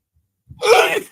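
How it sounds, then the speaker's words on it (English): One sharp sneeze from a man, close and loud, with a short inhale just before it. "I just sneezed"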